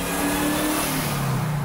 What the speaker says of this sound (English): You know how good the supercharger sounds on a Hellcat.